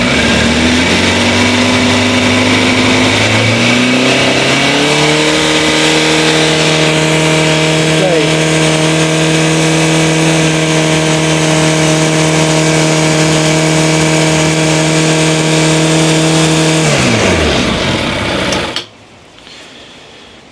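Suzuki Bandit motorcycle engine running steadily with the choke applied, its pitch rising around five seconds and holding a loud, even drone before cutting off near the end.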